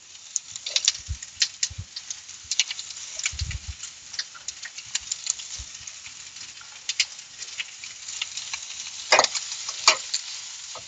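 Asparagus sizzles softly in oil in a pan with scattered crackles and occasional scraping as it is stir-fried, no talking over it.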